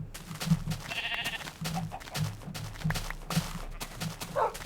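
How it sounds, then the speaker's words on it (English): Sheep in a video game bleat in short, repeated calls, some overlapping, against a busy game soundscape with other animal-like cries mixed in. "I see some sheep, so I will shave them"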